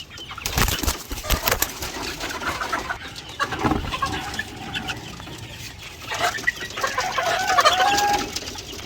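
Chickens kept on a farm cluck and flutter close by in irregular bursts, with some wing flapping and scuffling throughout and no voices.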